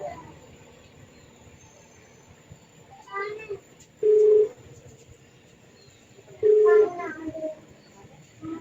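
An unanswered phone call to a doctor rings out as two short, electronic ringback tones a few seconds apart. Both are faint over a quiet, hissy background.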